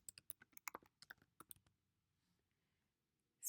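Fast typing on a computer keyboard fills the first half with a quick run of close, crisp key clicks. Quiet follows, and a brief loud noise comes at the very end.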